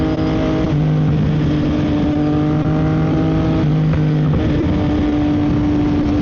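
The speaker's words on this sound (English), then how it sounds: "this bike sounds so good, man. I'm so happy I went with the exhaust" A steady, loud motorcycle engine with an aftermarket exhaust idling and revving with a throaty, droning exhaust note, held close and continuous throughout.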